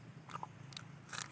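Crisp crunching bites into raw banana heart dipped in salt, a few sharp close crunches spaced across a quiet moment with no talk.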